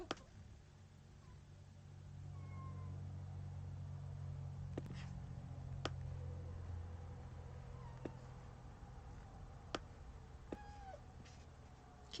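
A kitten gives a few faint, short meows, heard at a distance over a steady low hum in a quiet indoor space, with occasional soft clicks.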